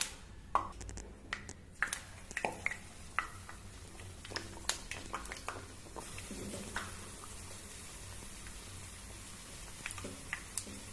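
Banana fritters (pazhampori) deep-frying in boiling oil, a faint steady sizzle with scattered crackles and occasional clinks of a utensil against the pan.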